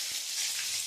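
Cumin, bay leaf and potato sizzle in hot oil, a bright, even crackling hiss lasting under a second, close and with no voices.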